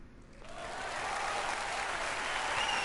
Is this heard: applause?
yes